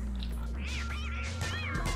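A cat meows in the video game Don't Starve, several drawn-out, rising and falling cries in close succession over a steady low game hum.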